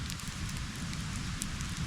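Outdoor campfire by the water while fishing in Norway, giving a steady low crackling roar with scattered faint pops and snaps throughout, close and continuous.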